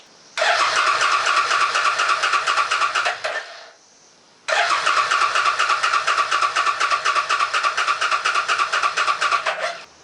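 Old Suzuki Boulevard motorcycle engine cranking but not catching: two long, loud, steady bursts of rapid starter churning close by, separated by a short pause, with no talking.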